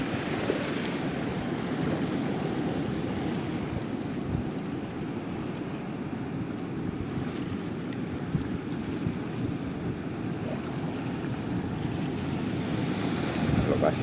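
Steady roar of ocean surf at the Muara Pantai Ayah beach estuary in Indonesia, with wind rushing across the microphone, a continuous wash of waves with no clear breaks.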